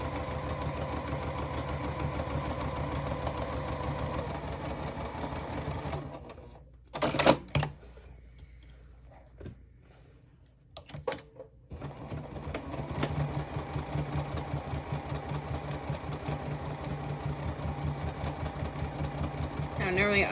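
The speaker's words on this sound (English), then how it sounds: "I'm top stitching along every fold." A sewing machine top stitching along folded fabric pleats gives a fast, steady mechanical chatter. It stops for a few seconds with a couple of handling knocks and then resumes, while a person talks quietly.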